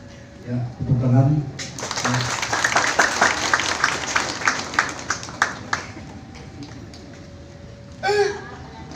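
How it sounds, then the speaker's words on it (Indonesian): Spectators clap at an anniversary security team demonstration in Yogyakarta, a burst of applause with distinct claps that tapers off, framed by shouted voices before and after. "tepuk tangan."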